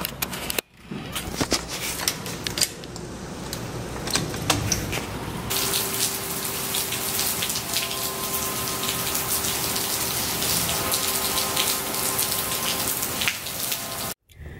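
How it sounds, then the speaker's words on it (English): Heavy rain pours down steadily and close by, a dense hiss of drops hitting surfaces, getting louder partway through and going on without a break, with no voices. "It was like raining so hard."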